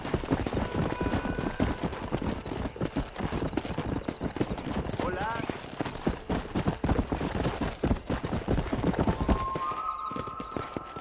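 Galloping horse hooves in Red Dead Redemption, a steady rapid clip-clop running the whole way, with occasional whinnies and short bursts of talk over the ride.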